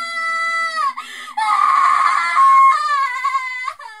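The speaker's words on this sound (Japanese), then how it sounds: "窓の外で、表の道を誰かが叫びながら走ってくる声が聞こえた。" Someone in the Corpse Party video game screams while running along the street outside a window, a long, shrill, wavering cry that rises and falls, loud and alone against silence.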